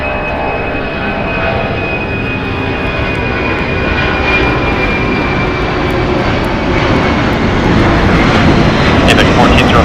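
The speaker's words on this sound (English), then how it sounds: "We're going to have DHL, operated by ABX Air, departing here, flight 1403, going to Cincinnati." A 39-year-old DHL Boeing 767 freighter operated by ABX Air departs LAX, its jet engines a continuous loud roar that swells gradually over the span.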